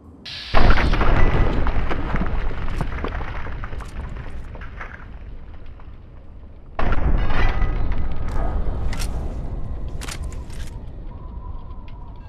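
Gunfire and explosive blasts in Fallout 3 combat, with two heavy booming bursts that trail into rumbling and several sharp shots echoing in between.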